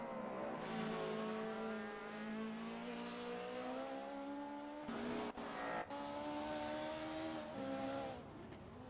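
Mercedes DTM race car engine heard from the cockpit at Zandvoort in a racing video game, a loud, steady high-revving drone with rising pitch sweeps, brief dips around gear changes, and no talking.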